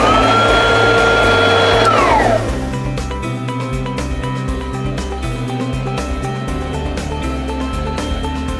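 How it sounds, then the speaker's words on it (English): An iVo RovaVac cordless battery vacuum cleaner runs with a loud, steady motor whine. Its pitch drops early on and then settles into a constant, close drone with small clicks. "And the vacuum airflow is really impressive."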